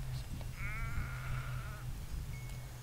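A single sheep in the Retezat mountains lets out one wavering bleat lasting about a second, moderately near, against a steady low hum of outdoor background noise.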